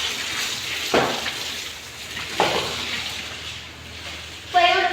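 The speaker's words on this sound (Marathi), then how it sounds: "किती पाणी मारले ते, नंतर असं घासणं लागन या फरशीला" Water splashed across floor tiles during a household cleaning, heard as a few separate splashy bursts over a low background, with a brief voice near the end.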